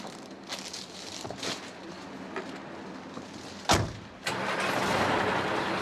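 A truck engine thumps to life, then settles into a steady, loud rumble that continues to the end.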